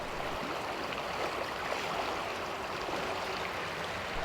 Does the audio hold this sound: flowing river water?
yes